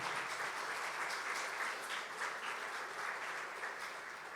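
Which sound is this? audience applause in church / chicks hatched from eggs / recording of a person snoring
audience applause in church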